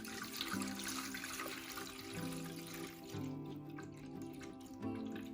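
Water poured slowly into an indoor hydroponic plant system, a quiet continuous trickle and splash over a faint low hum, heard alone without speech.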